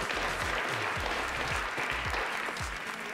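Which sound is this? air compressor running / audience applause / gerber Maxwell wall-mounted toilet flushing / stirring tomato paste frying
audience applause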